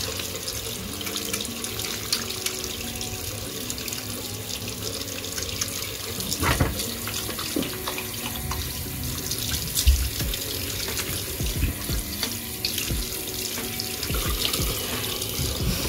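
Tap water runs steadily into a hotel bathroom sink, a continuous close splashing flow with small irregular spatters, alone with no talking.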